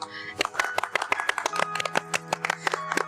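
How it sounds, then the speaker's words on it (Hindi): Several people clap in bursts at an engagement ring ceremony, the claps sharp and uneven, with voices talking over them. "आबद बेटी तुम भी बजा लो तालियां।"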